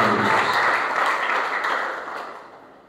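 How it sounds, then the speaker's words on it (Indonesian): Applause from a church congregation, dense and broadband, starting loud and gradually fading out over about three seconds with no talking. "Beri tepuk tangan yang terbaik."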